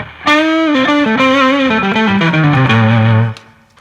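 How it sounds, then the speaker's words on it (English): Electric guitar played through a Tube Screamer stomp box, a short distorted melodic run of sustained, gritty notes stepping downward, loud and close with no talking. "That's my tube screamer."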